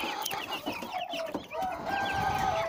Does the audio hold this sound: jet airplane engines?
no